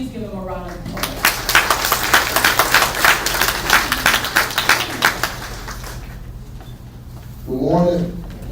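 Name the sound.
audience applause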